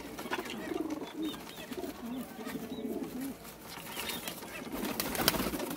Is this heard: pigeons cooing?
yes